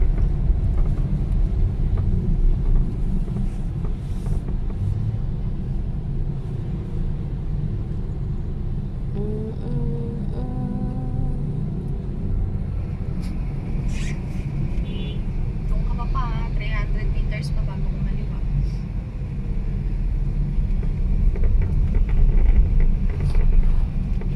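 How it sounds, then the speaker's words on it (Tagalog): Road traffic heard from inside a vehicle: a continuous low rumble with wind noise and faint passing sounds, and short tonal touches partway through. "Ayan na naman ang traffic."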